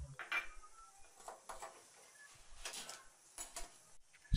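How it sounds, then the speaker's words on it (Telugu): A metal cooking pot is set down on a gas stove while making pepper rasam, giving a few light clanks and scrapes of cookware, fairly faint and close, with no talking. "స్టవ్ వెలిగించి స్టవ్ మీద గిన్నెను పెట్టుకోవాలి"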